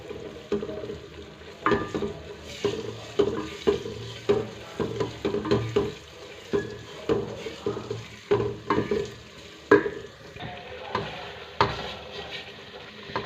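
Semolina roasting in a pan, stirred constantly: repeated scraping strokes of a spoon against the pan in an uneven rhythm over a soft dry sizzle, close and moderately loud, with no talking.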